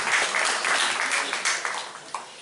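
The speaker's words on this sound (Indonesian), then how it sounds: "mari kita kasih tepuk tangan yang meriah buat mereka beliau semua" Audience applause for panel speakers at a public dialogue forum: a brief burst of hall clapping, fairly loud at first and tapering off with a few scattered claps at the end.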